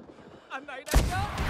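RPG rocket launch in the Rising Storm 2 video game, a sudden loud blast with a sustained roaring rush following a brief spoken phrase.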